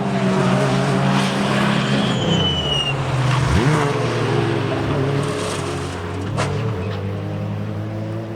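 A race car motors through the Craner Curves at Donington Park during an MSVR race meeting, its engine a loud, sustained drone with rising and falling pitch as it shifts gears, plus brief tire noise.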